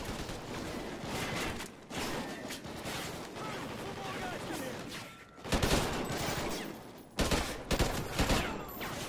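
Gunfire in the video game Call of Duty Ghosts, dense bursts of automatic shots with sharper loud volleys near the end, under a steady mix of battle noise and a speaking voice.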